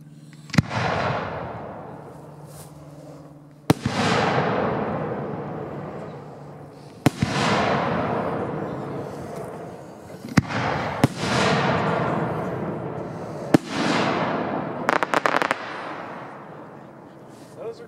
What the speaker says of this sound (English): We have starting off with 4-inch Freedom Fancy assortment.